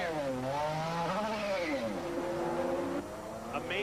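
A Nissan GTP race car leaving the pits at the 1992 Road America Camel GT race, its engine revving and rising in pitch as it accelerates away, with a commentator talking over it.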